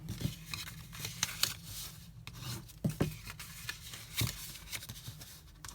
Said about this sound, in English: So I'm just going to fold and burnish on these lines.